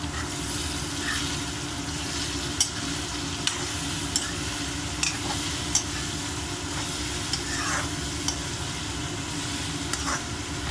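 Sweet mango chutney cooking in a pan gets stirred, with a soft continuous sizzle and occasional light clicks of a spoon against the pan, close and quiet.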